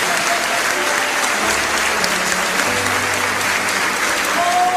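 A church congregation breaks into steady, sustained applause, a dense wash of clapping that holds from start to finish at close range, with no one speaking over it.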